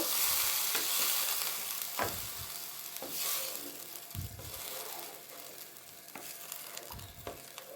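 Fenugreek seeds frying in hot oil for a fish curry, giving a steady close sizzle with occasional scrapes and stirring knocks.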